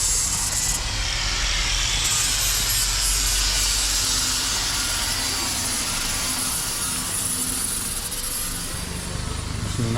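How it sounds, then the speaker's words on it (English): An angle grinder strips paint from the side of a boat in a Mallorca marina, a loud, continuous, high-pitched whine and grinding roar that stays steady and close for the whole stretch. "Using an angle grinder to take the paint off."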